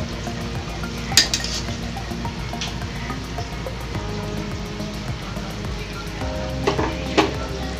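Gourd kofta curry gravy sizzles and bubbles steadily in a pan, with a few sharp clinks of a spoon or utensil against the metal and occasional stirring.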